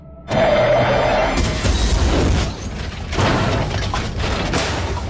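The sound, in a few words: car crash after sudden braking in a film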